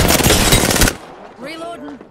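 A rapid burst of automatic gunfire from enemies in Apex Legends Season 7, loud and dense for about a second, then stopping as a voice speaks.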